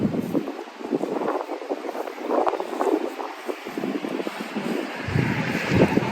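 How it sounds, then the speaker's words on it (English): Strong gusty wind blows outdoors across the microphone, a steady broadband rush that swells and buffets throughout with no one speaking, on a day otherwise meant for watching a bee swarm. "Now this very ominous wind has come in."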